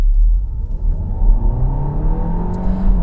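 A Hyundai Kona hybrid's engine drones loudly under acceleration, a steady close rumble with a rising tone partway through, no voices over it.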